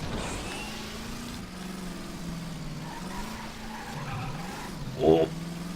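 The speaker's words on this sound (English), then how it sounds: "just super hilarious the way you can drift this van" Cartoonish van sliding and drifting through a tabletop track in Table Top Racing: World Tour, its engine droning steadily with a short squealing tire screech near the end.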